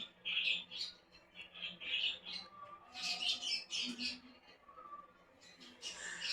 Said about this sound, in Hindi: और ये देखिए मेरी छोटे से तोते की जोड़ी है।